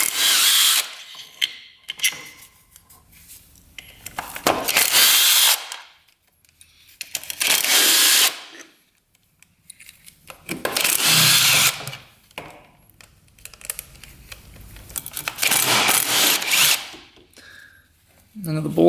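A power tool whirs in several bursts of roughly two seconds each while removing the bolts from the clutch cover of a Gas Gas 300cc two-stroke quad. The bursts are close and loud, with quiet gaps between them.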